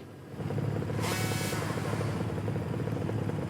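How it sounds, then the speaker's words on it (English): A Kawasaki motorcycle revs at the race start in the game Ride 3 at the Okayama circuit, a steady loud engine drone with a brief rising swell early on, heard alone. "So we're revving up at the start then."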